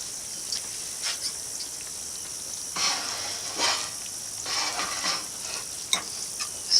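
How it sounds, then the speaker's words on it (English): Simmering stroganoff sauce sizzles steadily in a pan while a spoon stirs it in a few scraping strokes, close and fairly loud with no talking. "Stirring it. It's smooth."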